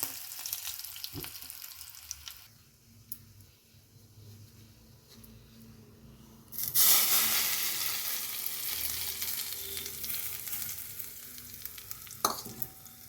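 Green chillies and curry leaves temper in hot oil for a chutney, a quiet sizzle that jumps to a loud, bright crackling burst midway and keeps frying steadily with a few stirring clinks.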